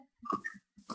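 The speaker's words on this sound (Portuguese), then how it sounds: "Os porcos já estão criando de novo." Pigs in the video game Minecraft grunt in short oinks, a couple of brief calls close together, then a pause and another grunt near the end.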